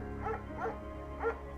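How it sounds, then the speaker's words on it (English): Mayhem, a shepherd dog in Firewatch, gives three short barks spaced evenly apart, close and moderately loud over a steady low background hum. "Mayhem's an excellent dog."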